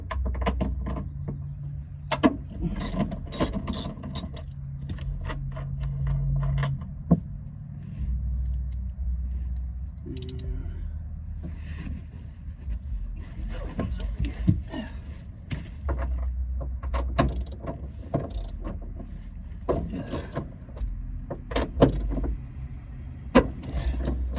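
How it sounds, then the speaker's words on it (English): Mounting nuts on a 2020 Dodge Challenger Hellcat seat are loosened with a hand tool inside the car, producing close, scattered metallic clicks and clanks over a low background rumble, with no talking. "So you're gonna have 3 nuts on this one you're gonna have to take off."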